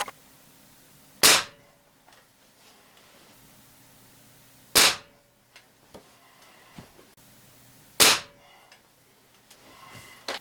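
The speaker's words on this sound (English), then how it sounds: "Now we'll shoot a few 177s across the Chrony and see what we get." A Beeman Grizzly X2 air rifle fires .177 pellets across a chronograph: three sharp, loud, isolated cracks spaced a few seconds apart, with faint handling clicks between shots.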